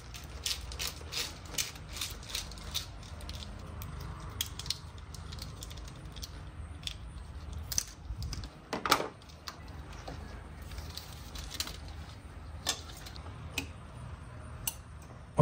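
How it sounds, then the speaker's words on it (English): Zip ties being cinched around a wiring loom during a DIY cold air intake install on a 2006-2010 Dodge Charger R/T, a steady run of quick ratcheting clicks and ticks, close and fairly quiet, with no talking. "That way I can zip tie it in."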